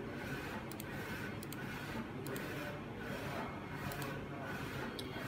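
A DX0406 phone case printer runs with a steady mechanical hum and rubbing, with light rhythmic ticks as the print head passes back and forth about every second, fairly quiet and close.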